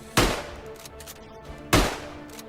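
Two loud, sharp shots from a Steyr M95 straight-pull rifle in the World War I game Tannenberg, spaced about a second and a half apart, each with a short echoing tail.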